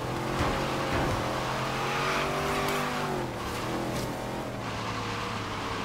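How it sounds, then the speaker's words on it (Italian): A car in the racing game Forza Horizon 3 drifts with a loud, sustained engine drone and tire squeal, its pitch bending and dipping midway as the slide continues, with no talk. "ma derapa sempre sta macchina"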